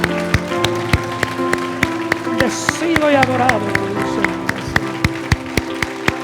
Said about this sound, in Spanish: Vamos, un aplauso fuerte al Señor.